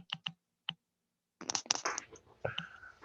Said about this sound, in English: Sounds like somebody's typing though.